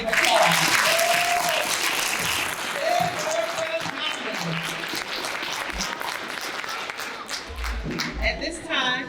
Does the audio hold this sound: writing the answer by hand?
no